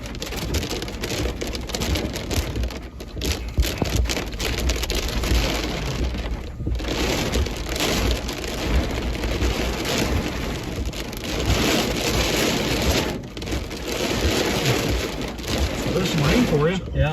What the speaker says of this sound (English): There's some rain for you.